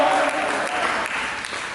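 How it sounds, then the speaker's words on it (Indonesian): Congregation at a church service applauding together, a dense, steady wash of clapping lasting under two seconds, with voices mixed in. "Mari kita berikan tepuk tangan bagi Tuhan."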